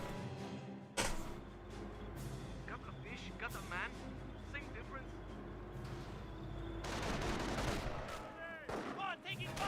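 In Company of Heroes, MG-42 machine gun bursts and sniper shots crack over a busy battlefield, with bursts of gunfire scattered throughout and a dense stretch of rapid fire near the end, and someone talking over the action.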